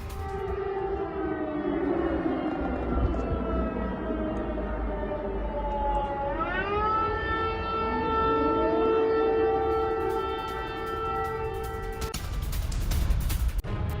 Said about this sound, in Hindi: लुहांस्क के बॉर्डर इलाके में बजाए जा रहे हैं वॉर सायरन।